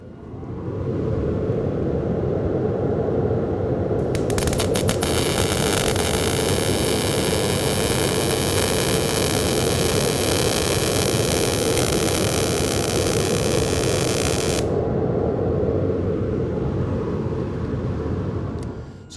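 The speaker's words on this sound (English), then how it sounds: "So we just made our MIG weld with too long of a contact tip to work distance." MIG (GMAW) welding arc run with an overly long contact-tip-to-work distance, a steady loud crackling hiss that holds continuously for about fifteen seconds before cutting off, with a broad low rumble underneath throughout.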